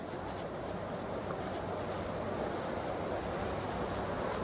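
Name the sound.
waterfall water rushing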